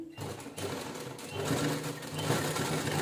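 A sewing machine runs in a rapid, continuous rattle while stitching piping onto a blouse, starting after a brief pause and holding a steady mechanical whir close by.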